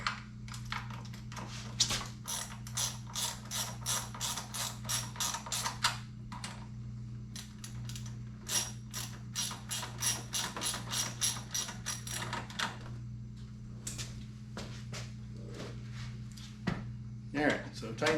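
Socket wrench ratchet clicking while tightening bolts on a motorcycle smart screen mount, with repeated close, sharp bursts of rapid clicks separated by brief pauses throughout.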